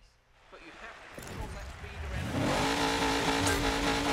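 Engine of a caged deathmatch off-road car in the racing video game DiRT 5, rising from quiet to a loud sustained revving roar as it accelerates, under game ambience.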